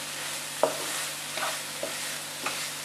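Masala for mushroom curry stirred in a pan over medium flame, a soft steady sizzle of frying with a few distinct scraping strokes of a spoon.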